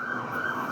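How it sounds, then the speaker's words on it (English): Ambulance siren passing by, a steady loud wail holding throughout the short stretch without pause, heard alone with no talking over it. "That was just an ambulance going by."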